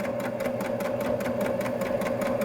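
A Baby Lock Jazz II sewing machine runs steadily while stitching binding onto a quilt, a continuous fast mechanical whir with rapid even needle ticks, close and alone.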